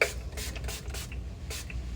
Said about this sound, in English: I have one more thing to do, which is my setting spray